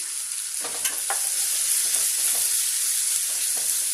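Tomato pieces frying with turmeric in a pan for a village-style dried fish curry give a steady, close sizzle with a few soft stirring scrapes near the start.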